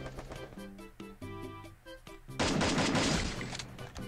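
Gunfire from an enemy in the Free Fire video game. A muffled burst of shots breaks out loudly over game music partway through and continues as a dense rattle.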